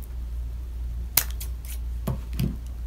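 Scissors snipping a craft antenna, a few crisp close cuts spaced irregularly over a low steady hum, no talk.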